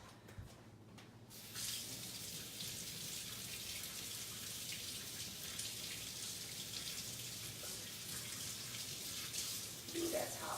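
Hot tap water runs steadily as something is rinsed clean of white wax residue, a continuous broadband splashing rush that starts after a brief quiet moment and carries on loud and close to the end.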